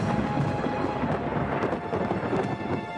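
Thunder rolls through a thunderstorm in a Fireman Sam cartoon, a steady deep rumble blended with hissing rain, continuous and fairly loud with no speech.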